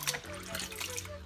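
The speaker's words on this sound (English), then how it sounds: "I drain the water away." Water is drained off meat washed before cooking suya, a short, close burst of splashing and trickling that carries on steadily.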